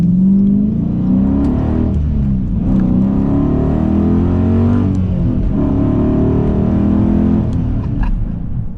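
A 2016 Dodge Challenger Super Bee's engine revs loudly and continuously while driving, with deep rising and falling pulls as it accelerates through gears, close and dominant throughout.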